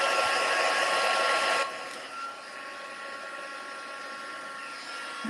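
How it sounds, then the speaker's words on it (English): A handheld heat gun blowing hot air to heat-emboss powder in a papercraft class: a loud steady roar of airflow fills the first second and a half, then drops to a quieter continuous hiss as the tool moves away. "So I'll just quickly heat emboss that."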